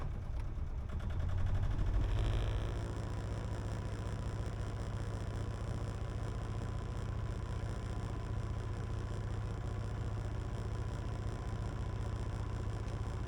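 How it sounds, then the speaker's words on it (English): Sailboat inboard engine running at steady revs, a continuous mid-low drone that holds level throughout, with a brief louder swell near the start. "Revs sound good. Try and keep the revs where they are."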